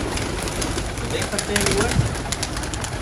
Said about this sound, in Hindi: देखिए अब हम अपने कबूतरों को खोलते हैं, हमारी लॉफ्ट के कबूतर आओ आओ आओ आओ